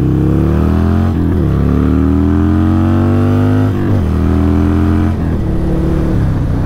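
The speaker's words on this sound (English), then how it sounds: "The exhaust on it sounds amazing." A Harley-Davidson Iron 883 motorcycle, converted to a 1200, revs loudly up close through its exhaust, its deep harmonic engine note sweeping up and dropping back in three or four throttle blips with no talk over it.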